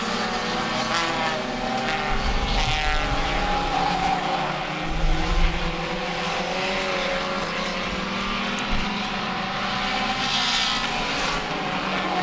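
Race cars at speed on a New England short track, a dense continuous roar of several engines with pitch sweeps as cars pass, steady and fairly loud throughout.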